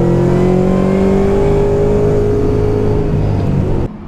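Ford Mustang Shelby GT500 with a 756 hp engine pulling hard under full throttle, a loud steady exhaust drone with rising harmonics, cut off abruptly near the end.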